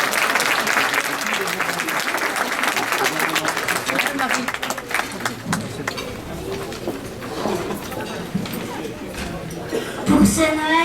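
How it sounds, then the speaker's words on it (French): A crowd at a charity awards speech applauds volunteers, dense clapping at first that thins and fades, followed by scattered voices and a brief bright sound near the end. "Donc vous pouvez les applaudir parce qu'ils ont fait un travail remarquable"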